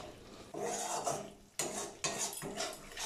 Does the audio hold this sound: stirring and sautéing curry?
yes